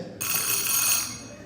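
A small bell on a homemade phone prop covered in sticky tape rings in a sudden bright, continuous jangle in a theatre, lasting just over a second before easing.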